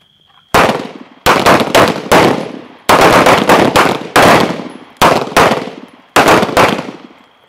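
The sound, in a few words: gunfire during night shooting training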